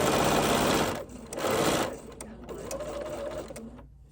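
A sewing machine stitches an angled corner on a small quilted wristlet pincushion, a close steady whirring run that pauses and restarts in short bursts, with a voice talking faintly over it.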